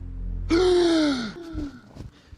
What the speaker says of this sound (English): Why are you gasping like that, man?